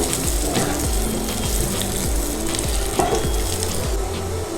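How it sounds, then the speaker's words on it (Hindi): Potato pieces fry in a pan over a medium flame for spicy dum aloo, a loud, steady sizzle and crackle with occasional stirring scrapes and no voices. "मीडियम फ्लेम पे हम इसको फ्राई करेंगे।"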